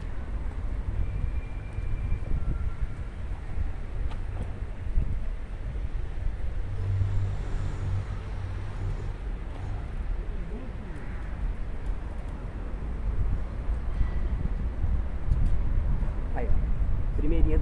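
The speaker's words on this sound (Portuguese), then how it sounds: "Então pode ver que tá ventando" Steady winter wind rumble and buffeting across the microphone at a tilapia fishing spot, continuous throughout, with faint outdoor background noise beneath.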